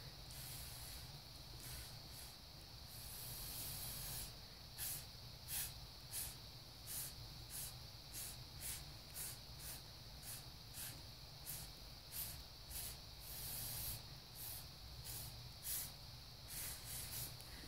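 Air blown over an acrylic paint pour, a soft steady hissing rush with gentle breathy pulses, quiet and close, with no talking.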